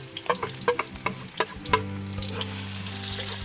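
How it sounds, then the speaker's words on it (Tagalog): Onion, garlic and ginger sautéing in a hot pan for chicken arroz caldo: loud close sizzling with a quick series of spatula scrapes and clanks that gives way to a steady frying hiss. "Gigisa ng isang aral yung sibuyas, bawang at luya."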